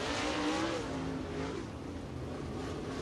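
A race car rolls slowly along the track at Lake Cumberland Speedway in Burnside, Kentucky, its engine a steady, moderately loud drone holding for about three seconds with slight pitch wavering and no voices.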